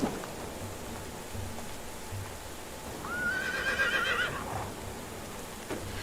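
A horse whinnies in the medieval village life-sim game Medieval Dynasty, a rising, wavering neigh lasting about a second midway through, over a steady ambient wash of rain and a few soft hoof clops.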